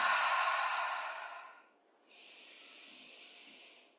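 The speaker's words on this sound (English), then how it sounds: "breathing out" A long, loud breathy exhale during a standing cardio flow workout, fading out, then a softer steady airy breath after a brief pause, with no talking.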